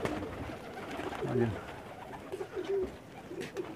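Rooftop pigeons coo in a few soft, low rolling calls close by, with scattered voices talking in the background.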